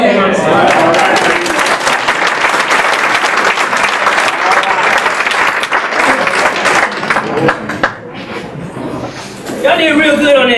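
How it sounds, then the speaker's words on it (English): Loud, sustained audience applause from a crowd at an MLK Day community gathering, dense clapping filling the room for several seconds, thinning briefly near the end as a voice speaks, then rising again. "Give yourself a round of applause"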